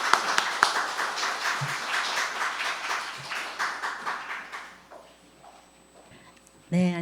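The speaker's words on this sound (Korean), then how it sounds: "박민선 교수님을 큰 박수로 맞아주시면 감사하겠습니다." Audience applause welcomes a Seoul National University Hospital family medicine professor at a policy forum on the rare women's liver disease PBC, steady clapping under talk for several seconds, then fading.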